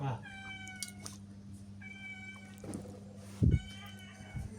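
A cat meows several times in drawn-out, pitched calls spaced across the stretch, fairly close, with a few soft knocks and handling noises between them.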